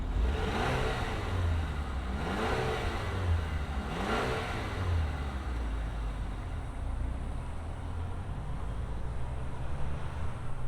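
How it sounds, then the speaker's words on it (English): The four-cylinder engine of a 2024 Chevrolet Traverse LT Midnight Edition starts and revs, with several rising and falling revs over a steady idle rumble, close and fairly loud. "let's fire up our 4-banger and hear what it sounds like"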